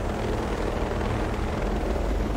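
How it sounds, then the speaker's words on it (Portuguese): Steady, loud helicopter rotor thrum in a video game, with a dense low rumble, continuous throughout with no talking. "Vai derrubar nosso helicóptero agora,"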